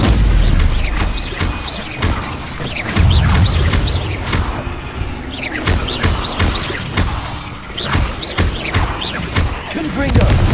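Repeated booming blasts from the Confringo fire spell in the Hogwarts Legacy video game crash through a dense, busy combat mix over about ten seconds, with several heavy impacts and voices spoken among them.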